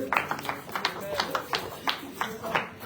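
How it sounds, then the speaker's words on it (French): A church congregation claps together in a steady rhythmic beat, with even bright claps about three per second at moderate distance under voices. "On peut se lever, en applaudissant fortement pour la belle."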